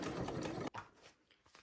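A sewing machine runs in a fast steady burst, basting connectors onto fabric for a foldover crossbody bag, then stops abruptly, leaving faint handling noise.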